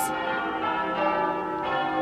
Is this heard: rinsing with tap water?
no